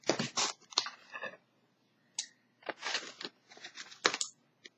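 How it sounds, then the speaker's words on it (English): Scissors cutting open a Knit Crate subscription box, several short crisp snips and cardboard scrapes in uneven bursts with quiet gaps between them, close and fairly soft. "Opening with the scissors."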